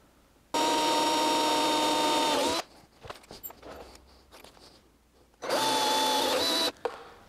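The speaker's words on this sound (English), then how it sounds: "I'm gonna go ahead and drill that one out." A power drill bores a hole in a junior dragster dash panel, two sustained loud whirring bursts of about two seconds each, separated by quieter handling and clicking noises.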